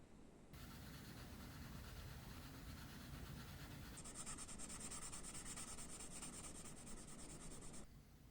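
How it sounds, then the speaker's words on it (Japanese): Sandpaper rubbing steadily over the parting lines of a 1/24 Platz Porsche 911 RSR plastic scale model, a close, continuous scratchy rasp with no pauses, its tone brightening partway through as the stroke changes. "さすがに目立つので面倒ですが削ります。"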